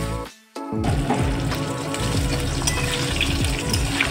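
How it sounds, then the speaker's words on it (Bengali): Oil sizzles and crackles steadily in a pan as a fish head fries, a dense close frying sound after a brief quiet moment at the start. "মাছের মাথাটা ভাজা হবে। এবার উল্টিয়ে দেবো মাছের মাথাটা।"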